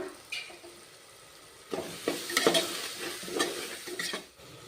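Tomato rice masala with chilli powder and salt is stirred in a pan, giving a soft sizzle under irregular scraping and clinking strokes that grow busier midway, close and fairly quiet, with no talking.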